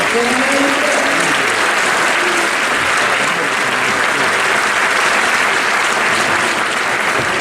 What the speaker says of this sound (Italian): Quindi fate un applauso.